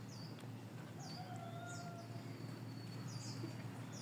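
Several faint bird calls chirp and whistle intermittently at a distance over a low, steady background hum. No talking.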